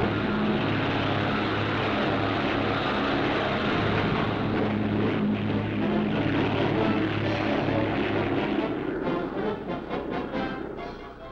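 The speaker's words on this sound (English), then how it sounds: "Seaplanes aboard a cruiser are catapulted to take their place in the aerial battle line." Engines of Navy seaplanes launched from a cruiser in 1941 give a steady, full propeller drone that holds and then thins out toward the end, with no talk.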